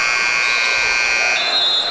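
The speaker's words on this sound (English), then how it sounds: "the buzzer sounds, signaling the end of the first half" A basketball game's end-of-half buzzer blares as one loud, steady electronic tone held for about two seconds, with crowd noise faintly underneath.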